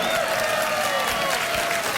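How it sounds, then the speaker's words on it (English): A studio audience on a late-night talk show bursts into steady, dense applause, a continuous wash of clapping mixed with some cheering, with no voices on top. "But I'll take the applause"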